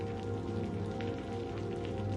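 Steady rain beats against windows during a storm, a dense, even wash of patter that holds at a constant level for the whole stretch, with no voices.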